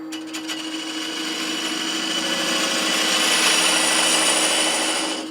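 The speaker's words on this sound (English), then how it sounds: "I'm using that beading and parting tool" Wood lathe spinning a keepsake box blank while a beading and parting tool cuts a tenon, a continuous humming whine with scraping hiss that swells slightly in the middle, close and loud, alone.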